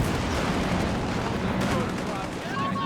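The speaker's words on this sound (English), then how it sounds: "Another mine goes off there." A mine detonates in the World War II strategy video game Company of Heroes 3, a dull rumbling blast lost among continuous battle noise of gunfire and explosions with no clear break.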